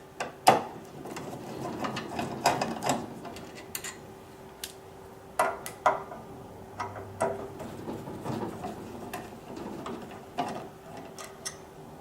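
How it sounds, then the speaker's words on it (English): Phillips head screws being backed out of the apron on a Stern KISS pinball machine: quiet, irregular clicks, ticks and small metallic scrapes, close by, with no talking. "there's 2 Phillips head screws that are on the ends over here that need to be removed"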